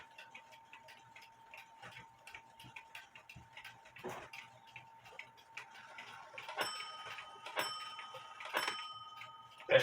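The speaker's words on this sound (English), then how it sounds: "but it's a really cool clock." Black Forest Biedermeier box clock from about 1870–80 with a wooden plate, ticking in a steady, faint rhythm under room noise, with a few louder clicks and metallic taps toward the end.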